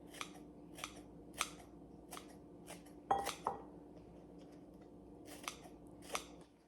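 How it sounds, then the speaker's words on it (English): Kitchen shears snip green onion for garnish, giving sharp, close, evenly spaced clicks with a brief clatter in the middle and no talking. "Now we're gonna take our green onion for garnish and cut it with our kitchen shears just so it's nice and thin on top"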